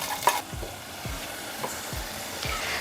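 Brinjal (kandangathiri) pieces sizzle in hot oil with a steady low hiss while a spoon stirs them, giving several scraping strokes spaced about half a second apart, close by with no talking.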